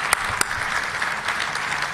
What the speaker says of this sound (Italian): un applauso, ci sta.